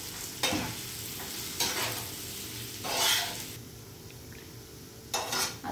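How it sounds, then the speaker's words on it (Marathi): Finely chopped onion being sautéed in a pan until reddish-brown, with a steady soft sizzle punctuated by several sharp scraping stirs of a utensil against the pan. "आता कांदा लाल होईपर्यंत आपल्याला परतून घ्यायचा आहे."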